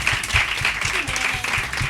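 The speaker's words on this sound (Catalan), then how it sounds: "Doncs un aplaudiment per la Musca i la Buinata, per favor" Audience applauding after a Catalan talk-show interview, a steady dense patter of many hands clapping throughout, fairly close and continuous with no talk over it.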